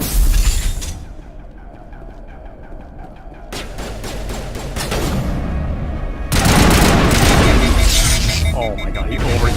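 Mass Effect Legendary Edition combat gunfire: dense, loud bursts of weapon fire and booms that come in waves with brief pauses, backed by battle noise, with a voice talking over part of it.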